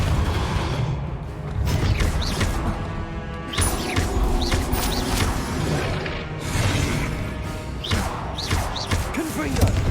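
Depulso force spell impacts in the game Hogwarts Legacy, a steady run of whooshing blasts and thudding crashes layered over dense game music and effects, loud and continuous throughout.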